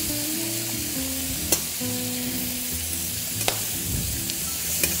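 Goose liver frying hard in a pan and caramelizing, a continuous close sizzle with occasional sharp pops and crackles, no voices.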